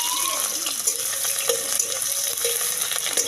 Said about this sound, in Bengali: জিরে ফোড়ন দেবো, দিয়ে পেঁয়াজ কুচি দিয়ে দেবো